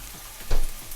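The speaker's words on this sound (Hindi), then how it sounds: "2 से 3 मिनट के लिए इसको फ्राई करेंगे" Ingredients for a homemade pizza sauce frying in a pan, a steady rain-like sizzle with a louder crackling burst midway, heard alone.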